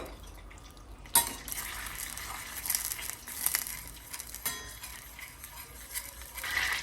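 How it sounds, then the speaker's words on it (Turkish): Crushed garlic sautéing in melted butter in a pan, a steady soft sizzle with scattered clinks and scrapes of a utensil stirring, close and moderately quiet with no talking. "sarımsağı da şöyle 1-2 dakika boyunca tereyağı ile birlikte kavuralım"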